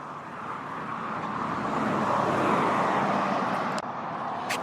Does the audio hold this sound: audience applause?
no